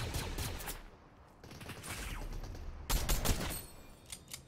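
Gunfire in a Fortnite-style shooter video game: rapid bursts of shots in two clusters, the louder one near 3 seconds with sharp cracks trailing off, at moderate level with no talk.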